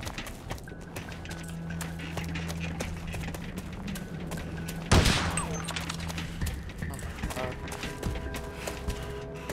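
Heavy machine gun fire in the game Bet on Soldier, rattling bursts mixed into a busy battle soundscape with a sharp loud blast midway and voices talking over the din.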